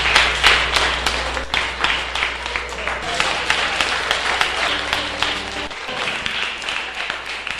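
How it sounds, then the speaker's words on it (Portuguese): A church congregation claps along in steady, dense applause, a continuous patter of many hands that runs beneath a voice speaking over it. "aplaude o Senhor com as mãos, todos os povos, aplaude o Senhor porque ele é bom"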